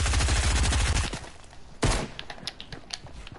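Rapid automatic gunfire in a video game shootout sounds as a dense burst of shots, then a single loud report and a few scattered shots that fade out.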